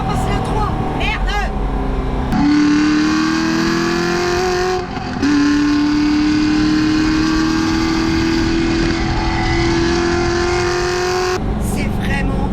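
A tuned Corvette C6 Z06 sports car engine roars loudly and steadily while driving, with rising engine pitch as it pulls through the gears, a brief dip mid-run, and cabin rumble throughout.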